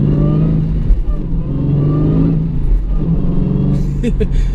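A 2015 Dodge Challenger Hellcat accelerates hard through its Viper-derived manual gearbox, a loud, deep supercharged V8 roar building steadily from inside the cabin, with a voice speaking over it.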